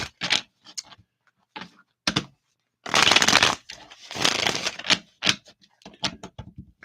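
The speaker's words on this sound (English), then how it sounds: "let us shuffle up here" Tarot cards shuffled by hand, close up, in a series of short riffling bursts and a few longer ones with brief pauses between, alone with no voices.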